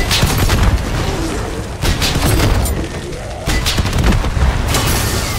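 RPG rockets fire and explode in MW3 Zombies, with loud, heavy blasts arriving in separate bursts, each followed by rumbling debris and continuous combat noise.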